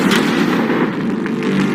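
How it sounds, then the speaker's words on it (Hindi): A tank cannon fires a shot on an outdoor range, one of twenty rounds aimed at targets, giving a loud, dense booming blast that rumbles and sustains throughout, with no speech over it. "ये 5 टैंक्स पैसों पर निशाना लगाकर 20 राउंड फायर करने वाले हैं"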